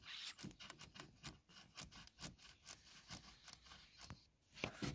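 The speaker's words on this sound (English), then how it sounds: "Open these two Jubilee clips, front and back." Jubilee hose clips being loosened on a Ford Transit Connect 1.5, a quiet series of close ratcheting, scraping clicks in an irregular rhythm with no voice.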